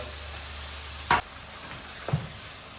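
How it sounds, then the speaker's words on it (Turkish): Chicken tantuni sizzles loudly in a hot pan as water is poured in, the steady frying hiss broken by two short sharp bursts, with no voices. "Ve daha sonra şöyle bir su ekliyorum."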